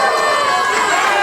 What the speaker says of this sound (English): So the crowd is loving this